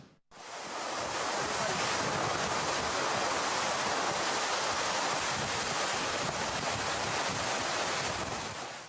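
Hurricane Irma's winds and ocean waves pounding the Caribbean coast, a loud, continuous roar of surf and gusting wind buffeting the microphone with no voices.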